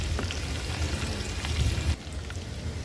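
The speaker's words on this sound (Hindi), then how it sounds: "अब आलू डालेंगे और फ्राई करेंगे" Potatoes and garlic fry in a hot pan with a steady, close sizzle that drops slightly in level partway through.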